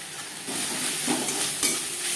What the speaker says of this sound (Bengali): মশলা বেশ ভালো করে মিক্স করে দেবো। কাঁচা গন্ধ যাওয়া পর্যন্ত নাড়াচাড়া করে নেব।